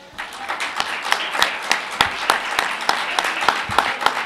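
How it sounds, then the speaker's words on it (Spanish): Crowd applause at a Virgen del Carmen festival proclamation in Agüimes, with loud distinct claps at a quick, somewhat uneven rhythm building into steady clapping. "Eso es un aplauso."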